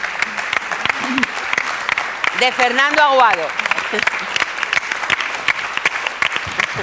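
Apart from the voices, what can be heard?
applause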